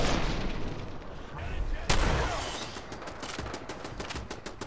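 Gunfire and an explosion in the video game Fallout 4: dense, loud rattling bursts, then a sharp blast around midway followed by continued rapid shots, with a voice talking underneath.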